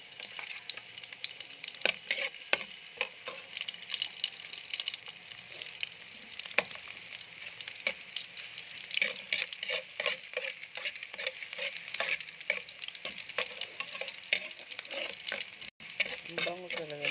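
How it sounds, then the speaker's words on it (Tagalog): Garlic sizzles and crackles in hot cooking oil, stirred in a pan as the first step of tinolang manok. A continuous, close frying hiss with scattered pops and stirring scrapes, no voices over it. "nilagyan na ng mantika. So, unahin natin ang ating bawang."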